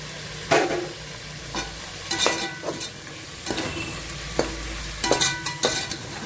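Mushrooms, onion and tomato sautéing for mushroom biryani, with a steady sizzle in the pan and repeated sharp scrapes and clinks of a spoon stirring at irregular intervals, close and clear, with no voices.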